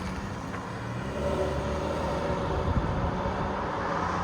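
A BMW X5 3.5L diesel with straight pipes and a deleted muffler rumbles at low, steady volume and swells slightly as it picks up, staying surprisingly quiet.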